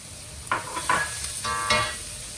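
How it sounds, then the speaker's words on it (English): Chopped garlic sizzles in a hot pan for char siu fried rice, a close crackling fry broken by a few short bursts of stirring and scraping, with no voices. "and then I'm gonna add in this garlic. And I'm not going to let it cook too long"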